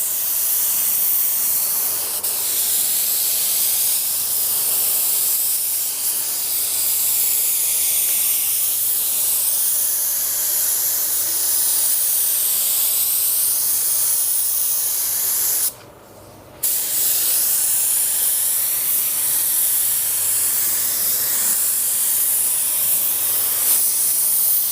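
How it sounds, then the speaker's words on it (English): LVLP automotive paint spray gun dusting a light first coat of paint onto a panel, heard as a continuous, loud, close airy hiss that holds steady throughout, broken by one brief stop in the middle. "I'll just dust it on to introduce this paint to the surface"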